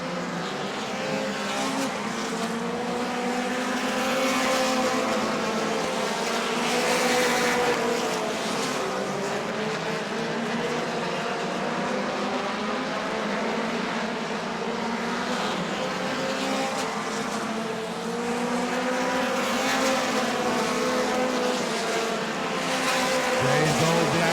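Sprint cars race at Auburndale, a pack of engines roaring continuously at high revs with rising and falling whines as cars sweep past, a steady loud drone throughout with a faint announcer voice underneath.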